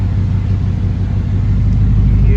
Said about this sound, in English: You hear that exhaust. Went underneath. It's got muffler delete, and it still has a resonator